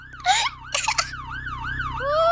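An ambulance siren in the Roblox Brookhaven game wails loudly and close with a steady rising and falling tone. A few brief, harsh bursts of other game sound break in near the start.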